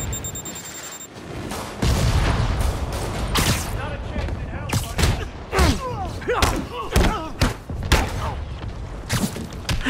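Rocket blasts in the Marvel's Spider-Man video game: a string of loud, sharp booms and thuds, several in quick succession, over a steady roar of battle noise with speech-like game sounds mixed in.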